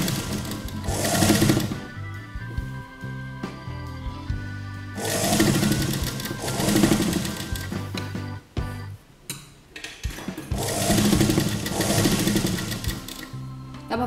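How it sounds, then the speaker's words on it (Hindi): A sewing machine stitches puff sleeves in three long runs of rapid, steady mechanical chattering and humming, with brief slower pauses between runs, close and loud with no talking. "और अब हम अपनी स्लीव्स को पहले यहां तक सिंपल सिलाई लगा लेंगे।"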